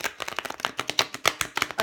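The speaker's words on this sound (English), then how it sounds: "I'm just going to shuffle them back the other way because otherwise I bend their backs" Tarot cards shuffled briskly by hand, close by, a quick run of crisp flicking and slapping clicks in an uneven rhythm, with no voice over it.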